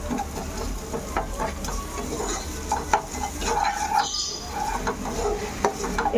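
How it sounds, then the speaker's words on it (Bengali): Softened vegetables and tomatoes are mashed in a pan with a metal spatula, giving a series of soft scraping, squelching strokes and light clinks over a low sizzle. "হালকা একটু খুন্তি দিয়ে এরকম ম্যাশ করে দিই"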